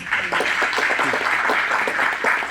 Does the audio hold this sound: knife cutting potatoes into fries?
no